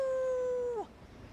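A single howl in the style of a wolf: a steady, clear tone held for under a second, then sliding downward and breaking off, heard alone.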